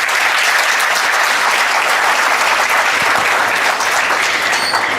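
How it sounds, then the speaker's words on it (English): Sustained, dense audience applause fills a hall at an HR leadership summit, steady and loud throughout with no break or speech over it. "Please give them a huge round of applause"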